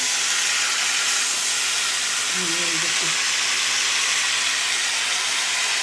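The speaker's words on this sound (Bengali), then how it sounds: "বেগুনটা পেঁয়াজ আলু সমস্ত সবজিটা দিয়ে একটু ভাজা ভাজা করে নিই" Eggplant, onion and potato frying together in a pan give a steady, fairly quiet sizzling hiss throughout, with a brief murmur of speech in the middle.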